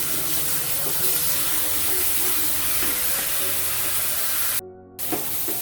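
Rice tossed in a hot pan with ground ginger, garlic paste, green chillies and salt fries with a steady, dense sizzle that runs close and unbroken, stopping only briefly near the end, with no talking.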